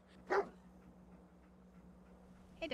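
Dogmeat, the dog companion in the video game Fallout 4, gives one short, fairly faint bark early on, with quiet background hum and a brief faint sound at the end.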